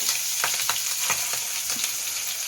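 Paneer pieces fry in hot ghee in a pan, giving a dense, continuous close-up hiss with faint crackles as the pieces settle.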